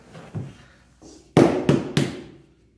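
Tapping a freshly drilled piece out of a CO2 build part: a couple of soft knocks, then three sharp, loud taps in quick succession, close and without talk.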